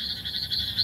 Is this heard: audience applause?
no